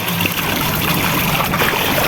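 Running water splashes and trickles steadily while fish is rinsed by hand, a continuous close wash with no pauses.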